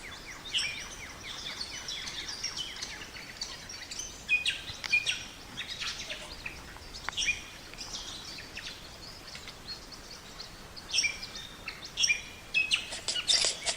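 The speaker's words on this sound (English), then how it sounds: "Birds are now started to sing, so I'll try and get a sound recording." Several birds chirp and sing in a dawn chorus near a hut in the bush, with bright overlapping calls rising and falling throughout and no voices.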